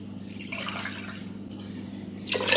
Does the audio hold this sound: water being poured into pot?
yes